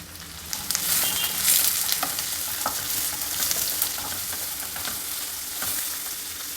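Vegetables fry in a hot pan with a steady bright sizzle, broken by repeated scraping strokes of a spoon stirring them around, close and fairly loud with no voices.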